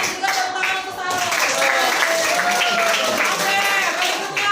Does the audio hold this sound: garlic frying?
no